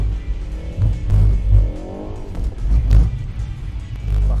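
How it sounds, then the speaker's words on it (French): A Ford Focus ST engine revs up and rises in pitch in short bursts, loud and close, with rumbling low tones between the pulls. "Très beau bruit du moteur."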